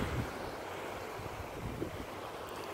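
Steady ocean surf rolls against the shore on a morning at the coast, with gusty wind buffeting the microphone throughout; continuous broadband wash with no voices.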